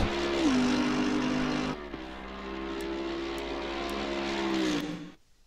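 A 2015 Mercedes-AMG GT3 race car engine in the game Assetto Corsa Competizione drones steadily at sustained revs, dips briefly with a gear change, holds again, then winds down and cuts out near the end.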